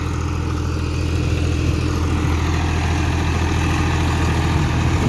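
A John Deere 5045 PowerPro tractor with a 46 hp engine idles steadily and close by, giving a continuous low rumble with a throbbing rhythm. No other sound breaks in.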